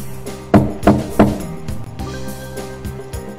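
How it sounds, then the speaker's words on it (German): Knocking on a hatch in the adventure game Zak McKracken 2, three distinct loud wooden knocks in quick succession over background game music, followed by fainter thuds. "Ich klopfe mal."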